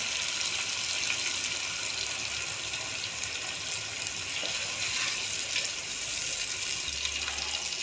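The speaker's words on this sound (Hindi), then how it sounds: "अब हम 1 प्याली ऑयल डालेंगे इसमें।" A cup of cooking oil poured into a pot while chicken and drumsticks are cooked, a continuous hissing, gushing liquid sound that stays loud and even throughout.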